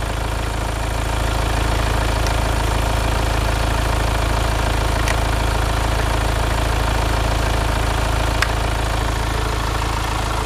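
A 2018 Hyundai Santa Fe engine idles steadily and evenly in a low, continuous hum with no voices, holding constant loudness throughout.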